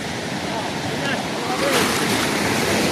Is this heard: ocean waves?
yes